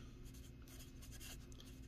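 Writing a chart by hand, a faint continuous scratch of pen or marker on a surface, heard close for under two seconds with no talking.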